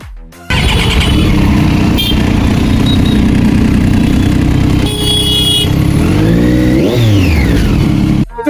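A motorcycle engine, likely a 650, revs hard and loud at close range, with sustained throttle and exhaust firing, rising and falling sweeps near the end, and no talking.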